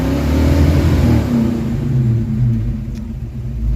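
Ford Mustang engine pushed to around 3000 RPM for a rev limiter test, a rough, loud, sustained rumble with wavering revs that rise and fall unevenly, running poorly, close by with no talk.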